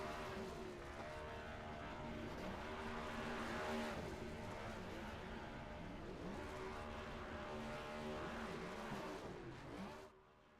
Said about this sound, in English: Interesting burnout he's got going on.